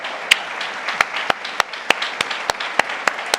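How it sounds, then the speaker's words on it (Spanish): A church congregation applauds during a sermon, a moderate clapping wash with loud, distinct nearby claps punctuating it at roughly even intervals. "Démosle un aplauso a nuestro Señor."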